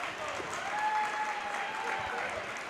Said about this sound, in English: Gets a great round of applause from the crowd.